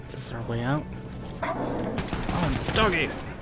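In the video game Wolfenstein: The New Colossus, a dog barks and whimpers amid rattling gunfire, with voices talking over the combat noise.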